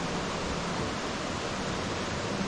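A small waterfall at Khao Kho in Phetchabun, Thailand, heard as a continuous, even rush of falling water with no breaks or voices.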